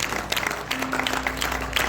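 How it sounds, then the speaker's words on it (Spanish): Church congregation applause during a Spanish-language sermon on forgiveness, a short burst of scattered clapping with a steady hum underneath and a preacher's voice faintly mixed in. "Alguien tiene que dar un aplauso al que vive."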